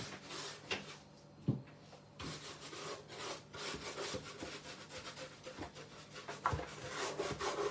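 Frenchic wax being rubbed by hand onto a painted wooden corner unit, a soft, intermittent scuffing with occasional light knocks of wood, fairly quiet and close.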